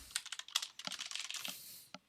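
Computer keyboard keys clatter in a quick burst of close, crisp clicks, with a last single keypress near the end, alone without talk.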